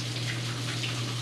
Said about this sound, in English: Also gonna wash my hands.